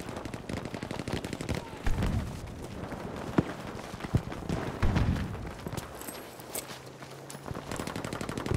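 A Lewis gun in Battlefield, a World War era shooter, fires bursts amid a dense battlefield din of distant shots and impacts, moderately loud and continuous throughout.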